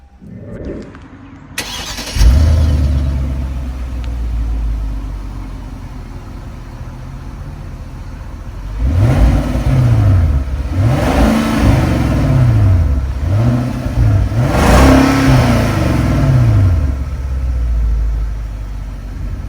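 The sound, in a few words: 2009 Hyundai Genesis 4.6 engine starting and revving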